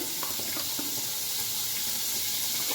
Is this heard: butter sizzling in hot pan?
yes